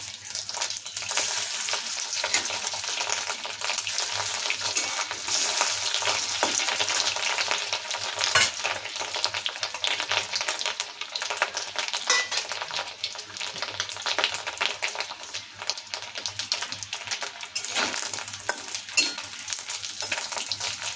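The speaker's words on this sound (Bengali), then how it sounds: "মাছের বড়া ভাজা হয়ে গেছে" Fish roe fritters fry in hot oil for a Bengali sour roe dish, a steady loud crackling sizzle that runs without a break, with occasional stirring and scraping.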